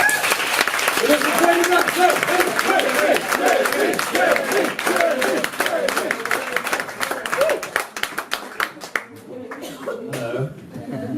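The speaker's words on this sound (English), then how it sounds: "Would you mind starting our applause, Mr. Jamie Grant?" Audience applause for comedian Jamie Grant fills the room, dense steady clapping with crowd noise, while a voice speaks over the start, the clapping thinning toward the end.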